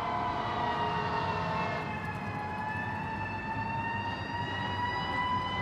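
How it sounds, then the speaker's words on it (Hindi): A fire brigade siren wails steadily during a building fire, a rising and falling tone heard from some distance over low background noise. "देखो फायर ब्रिगेड की भी आपको आवाज़ आ रही होगी।"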